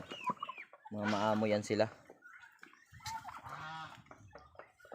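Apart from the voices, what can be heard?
turkeys on a farm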